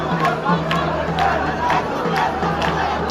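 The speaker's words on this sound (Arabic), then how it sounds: "من قبل شغاله هتافات ثوريه جميله جدا لاشعار حميد" Crowd at a revolutionary rally in Atbara chanting slogans with a rhythmic, repeating beat, dense and loud, with voices blending into a continuous roar.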